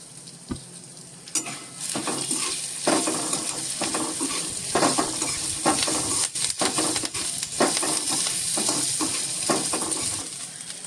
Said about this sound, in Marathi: आता व्यवस्थित सगळं परतून घेतोय